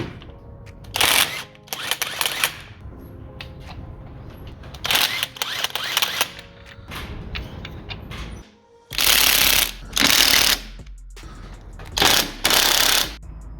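A ratchet wrench clicks in several loud bursts while taking off the hub nut and three ball joint bolts on a 2020 MG3 during a gearbox replacement, with quieter handling noise between the bursts.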